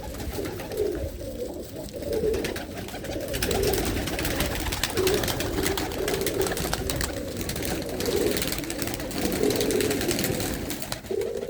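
Hundreds of pigeons let out of their coops into the open in Ludhiana keep up a steady chorus of low throaty coos, many birds overlapping at close range with wing flutter and no voices.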